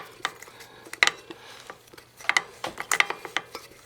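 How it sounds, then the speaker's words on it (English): Metallic clicks and scrapes of a cable being unscrewed from the brake hub of an old Yamaha IT175 vintage dirt bike, a handful of sharp close ticks spread irregularly, with no talk. "Just going to unscrew this until it comes out of the brake hub."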